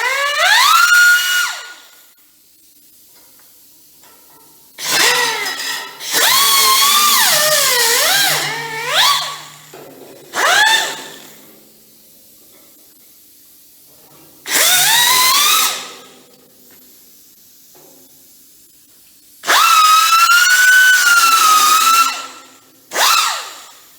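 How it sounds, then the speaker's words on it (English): Power drill cutting a hole in the body of a VW Beetle for semaphore pockets, loud whining bursts that rise and fall in pitch, several separate runs of a few seconds each with quiet pauses between them. "we've cut the hole out now"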